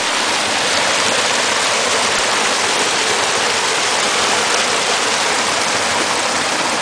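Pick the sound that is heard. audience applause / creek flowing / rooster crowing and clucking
creek flowing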